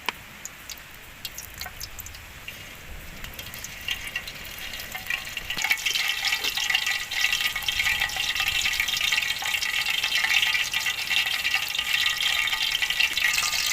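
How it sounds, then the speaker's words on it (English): Oil heating in a pan for frying crickets starts as a faint crackle, then builds into a louder, steady hiss partway through, with scattered light ticks. "First we add oil. We need a lot of oil for fry with our it."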